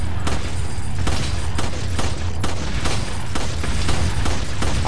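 Gunfire in the video game Resident Evil 4: a rapid series of loud, sharp shots with booming low impacts, firing in quick irregular succession over a continuous rumbling game soundtrack.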